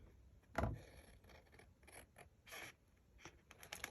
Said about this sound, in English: Now, I'm going to take these scissors and I'm going to,